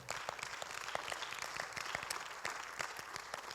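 A church congregation applauds the Lord during a sermon: a faint, steady patter of many hands clapping, with sharper individual claps standing out, continuous and without talk.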